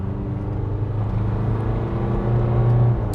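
Isuzu D-Max 2021 pickup with a 1.9 litre diesel engine driving on the road, a steady low drone and cabin rumble that swells slightly near the end.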